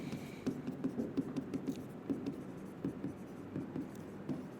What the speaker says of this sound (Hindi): पहले मैं स्टेटमेंट लिख दूं